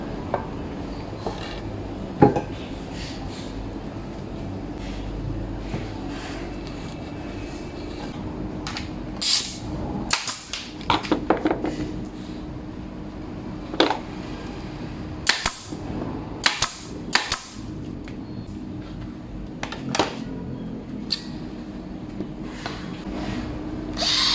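Pneumatic nail gun firing fasteners into a wooden table frame being built with splayed legs, a few sharp isolated shots spread out among workshop clatter and handling noise.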